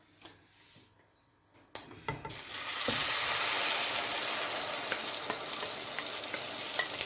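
An egg and cabbage Spanish-style omelette mixture hits a hot pan and erupts into loud, steady sizzling that holds for several seconds after a brief quiet moment and a clack.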